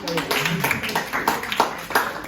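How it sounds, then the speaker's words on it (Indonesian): Audience hands clapping at a university public speaking presentation, sharp separate claps at a loose rhythm heard over ongoing talk. "kan tepuk tangan dulu"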